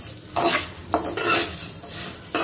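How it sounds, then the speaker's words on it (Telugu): Semiya vermicelli fried and stirred in a bowl, with several distinct scraping strokes over a steady sizzle, close and fairly loud, no voices. "ఆ సేమ్యాని సేమ్ దాంట్లో మనం ఇప్పుడు మనం ఏది వేసుకున్నామో దాంట్లోనే వేసుకుని మనం దాన్ని ఫ్రై చేసుకోవాలన్నమాట"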